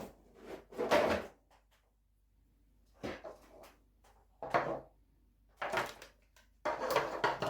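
Cardboard packaging box of a Teenage Mutant Ninja Turtles sewer toy playset being pulled away and handled, several separate rustling, scraping bursts with quiet gaps between, close by, no talking.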